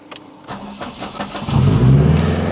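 Honda Civic Type R, built as an all-wheel-drive project, cranks on its starter with a rough, stuttering whir before the engine catches and settles into a loud, close idle inside a shop.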